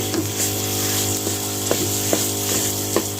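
Mashed sweet potato stirred with semolina in a hot pan, a steady soft sizzle with occasional scraping stir clicks, close and alone with no voices.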